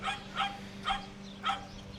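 A neighbor's dog barks four times at an even, unhurried pace, each bark sharp and moderately near over a low steady hum.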